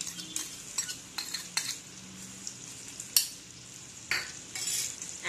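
Potatoes being stirred into a red poppy seed paste for Bengali aloo posto, with a scattering of spoon scrapes and clinks over a soft, steady sizzle and no talking.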